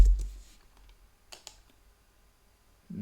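A mouse click on the Process button in LibreOffice's Stable Diffusion extension: a few soft, close clicks, with a clearer pair in the middle, then near silence and no speech.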